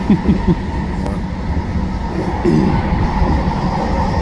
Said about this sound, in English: Here the train's moving.